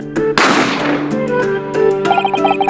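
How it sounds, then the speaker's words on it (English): A single sharp gunshot from The Great Ace Attorney Chronicles, a courtroom mystery game set in a dining establishment. It cracks loudly and decays over a second, then gives way to sustained musical tones and plucked notes. "A gunshot rang out"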